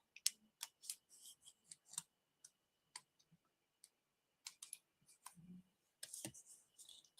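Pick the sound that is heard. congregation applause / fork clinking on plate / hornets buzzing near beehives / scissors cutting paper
scissors cutting paper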